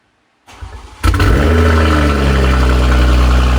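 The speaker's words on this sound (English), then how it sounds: "Catless downpipe startup on the M240i." A BMW M240i fitted with a catless downpipe cranks briefly with a starter whir, then fires into a loud, raspy roar that flares and settles into a rough, booming idle, close and alone.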